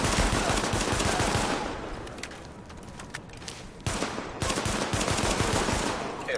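Tom Clancy's The Division gameplay features dense rapid automatic gunfire in sustained bursts, loud and close, easing briefly in the middle before another burst opens up.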